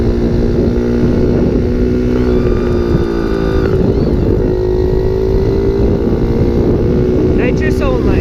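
Pocket bike engine running on nitrous only during a test pull, a loud, close, steady droning engine note with shifting pitch and wind buffeting, with a voice briefly over it.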